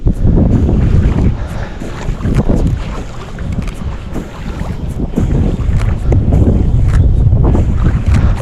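Loud gusting wind buffets the microphone in uneven bursts, rumbling and roaring, with water and boat noise faintly beneath, on a farm.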